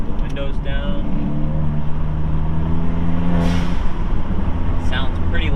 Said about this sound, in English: Give you guys a little clip of the blow-off valve with the windows down.